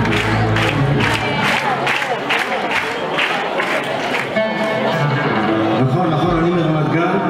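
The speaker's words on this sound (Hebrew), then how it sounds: "איפה הכפיים של כולם?" An audience at a live music show claps in a steady rhythm and cheers, the clapping sharp and regular through the first half before blending into a constant loud crowd roar.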